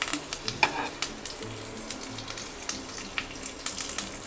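Curry leaves hit hot oil with mustard seeds for poha and make a bright, spattering sizzle, with sharp pops and crackles repeating in quick succession close by.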